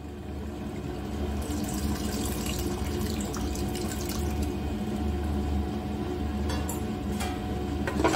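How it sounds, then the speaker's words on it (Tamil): Tamarind water poured into a pot of broad bean sambar, a steady continuous running-water pour close by, with faint drips and splashes over it and no talking. "புளி ஊற்றிக்கலாம்."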